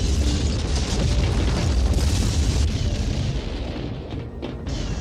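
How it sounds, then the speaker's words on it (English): A cartoon fortress explodes and collapses in one continuous rumbling roar, dense booms and crumbling debris sustained throughout, loud and close without any voices. "The fortress is destroying itself!"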